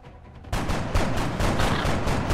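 Rapid gunfire from the video game XCOM bursts in after a quiet half second and continues as a dense, loud stream of overlapping shots until the end.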